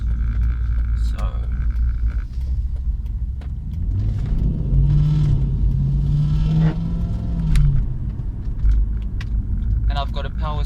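Mercedes C-class W203 sport coupe with a swapped 3UZ-FE V8 and new exhaust, a low idling rumble with a few rising revs near the middle, mostly steady and fairly close, with someone talking over parts of it.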